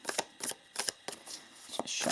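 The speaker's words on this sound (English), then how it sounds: "Just shuffling these cards a little bit." Playing cards for a tarot reading are shuffled in short, close riffling bursts about every half second, soft and alone without talk.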